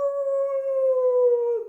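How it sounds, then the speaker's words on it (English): A single long, steady animal howl, like a jackal's, holds a clear sustained tone that slowly sinks in pitch, heard alone and fairly close in an otherwise quiet scene. "The jackals started howling."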